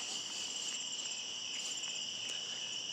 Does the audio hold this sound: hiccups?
no